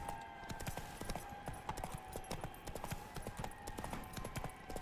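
Geralt's horse Roach gallops in The Witcher 3 during a race to Kaer Morhen, a steady, fast clip-clop of hooves kept up evenly throughout and heard at a moderate distance.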